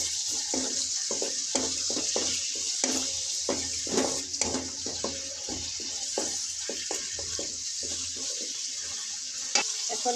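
Sliced onions frying in about a third cup of hot oil for a bitter gourd and chicken feet curry, a continuous bright sizzle with scattered stirring clatters, close and steady.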